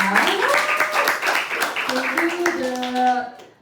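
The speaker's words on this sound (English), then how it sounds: "all the delegates giving applause for us" Delegates at an assembly session clap together in a dense, steady patter of many hands, fairly close, with voices talking over the applause before it fades out.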